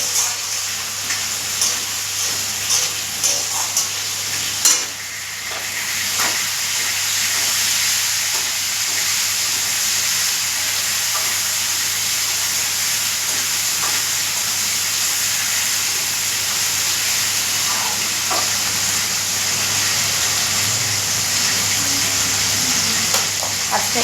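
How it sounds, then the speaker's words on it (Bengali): Vegetarian dishes of mung dal, cauliflower and potato curry, and fried eggplant cooking in two woks, giving a steady close sizzle and hiss of frying oil that runs continuously without talk. "দুদিকে দুটো কড়াতে রান্না বসিয়ে দিয়েছি।"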